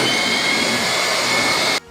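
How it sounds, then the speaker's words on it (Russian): A Dreame R20 cordless stick vacuum cleaner runs at a steady high whine with strong airflow, loud and close, then cuts off abruptly near the end. "В автоматическом режиме пылесос сам добавляет мощность, когда находит соринки."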